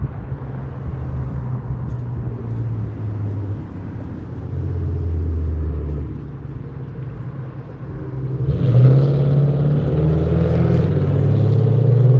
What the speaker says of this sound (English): Wow, loud cars.